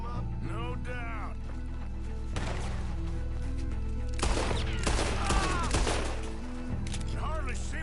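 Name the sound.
gunfire in the video game Red Dead Redemption 2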